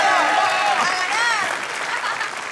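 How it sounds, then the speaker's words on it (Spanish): Dense, steady applause from a studio audience at a comedy game segment, loud and continuous throughout with no talking over it. "¡Fuerte el aplauso para ellos!"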